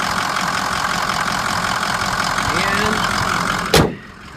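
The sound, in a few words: 2004 Ford F250 6.0 diesel engine idling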